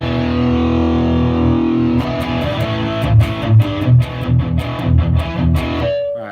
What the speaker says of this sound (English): Tube screamers are great for tightening up the low end.